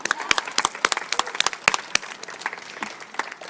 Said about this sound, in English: these guys need a round of applause